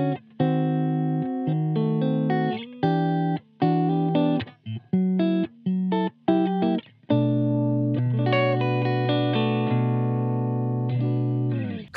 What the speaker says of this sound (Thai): ให้ฟังเสียงคลีนก่อนแล้วกันนะครับผม